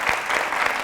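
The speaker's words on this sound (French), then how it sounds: "Vous pouvez vous applaudir, s'il vous plaît." Audience applause at an event held at the Hôtel Kaloum in Guinea, a brief steady burst of many hands clapping together, dense and even across the whole moment.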